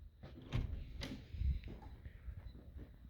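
A building's front door opening and closing, a few hard knocks and clunks spread over a few seconds, close and fairly quiet, with no one talking.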